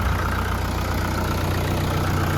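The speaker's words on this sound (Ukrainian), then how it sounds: "гарно працює двигун" Kentavr S 504CU mini tractor diesel engine idling steadily nearby, a continuous low rumble with even mechanical chatter and no speech.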